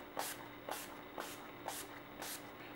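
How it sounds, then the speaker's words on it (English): Urban Decay Chill makeup setting spray misted onto a face in five quick, evenly spaced pumps, each a soft close hiss with brief quiet between. "I've been setting my face with the Urban Decay Chill Makeup Setting Spray."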